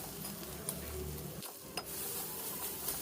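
Jackfruit and grated coconut being sautéed in a pan, a low continuous sizzle with occasional scraping and clicking from stirring, close and fairly quiet.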